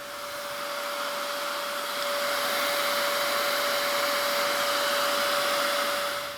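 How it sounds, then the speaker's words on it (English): A disc sander runs continuously while rounding off small wooden pieces, a loud, steady broadband whir with a constant tonal hum, growing slightly fuller partway through as the wood presses against the disc. "Then round them off with the disc sander"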